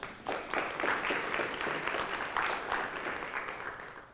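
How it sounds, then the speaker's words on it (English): A room full of people applauds steadily to welcome an assemblymember at a California nonprofit security grant event, the dense clapping rising quickly and holding at moderate loudness. "please welcome Assemblymember Gabriel"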